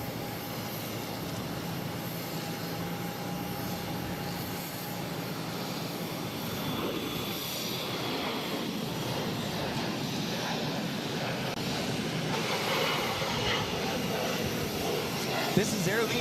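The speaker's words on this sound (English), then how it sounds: "At the same time, we got the Aer Lingus A330 touching down on to" An Aer Lingus Airbus A330 touches down at Boston Logan, a broad steady roar of engine and rolling noise that swells slightly toward the end, heard from a distance with a faint voice underneath.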